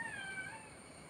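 A pet cat gives a short, faint meow, a single thin drawn-out cry over a quiet background.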